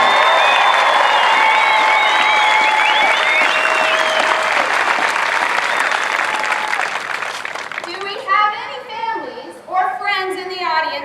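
Crowd at an Air Force basic military training graduation parade applauding and cheering, with whistles and children's voices mixed in; the applause is loud at first, then fades as someone speaks over a PA.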